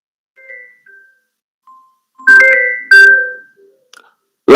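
A telephone rings during a broadcast, short electronic ring tones sounding in separate bursts, two of them loud and sustained, with near silence between them.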